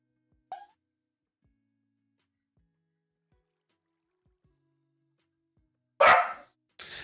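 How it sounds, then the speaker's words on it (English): A small puppy gives a single short yip, then two louder, harsher barks several seconds later, close and alone in an otherwise quiet room. "And my little puppy's making some big noises."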